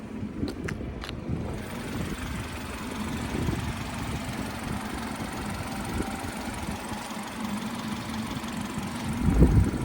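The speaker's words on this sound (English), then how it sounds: "Engine's running great, idling really smooth, sounds super healthy." A 2019 BMW 430i xDrive idles with a steady low engine hum, a few sharp clicks at the start, and a slight swell near the end.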